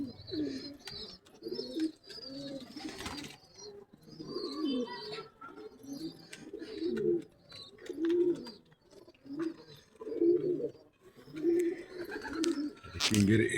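Kaldom pigeons in a loft give repeated low cooing phrases that come in steady bursts, with some faint chirps and a brief clatter near the end.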